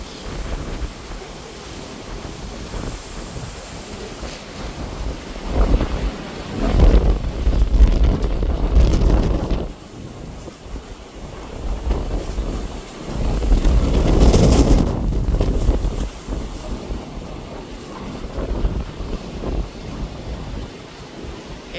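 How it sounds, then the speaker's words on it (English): Strong gusting wind and crashing surf during Hurricane Helene, roaring in waves of buffeting microphone wind noise over a constant rush of water, rising and falling loudly throughout. "It's windy. Wind is picking up."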